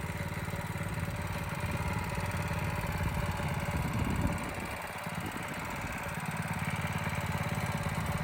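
A mini street bike's stock 212 engine with the governor removed runs nearby, a steady buzzing putter with a brief throttle dip midway, loud and continuous.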